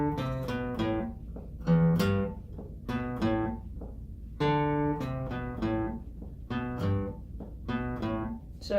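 A clean, plucked guitar plays a funk riff, repeating in short bouncy phrases with steady rhythm, played close and alone with no talking.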